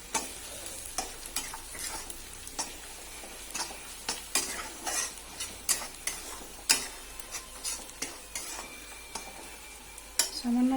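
Brinjal sautéed in a pan with roasted cumin powder, bay leaf and cinnamon, with repeated brisk spatula scrapes and taps against the pan over a light, steady sizzle.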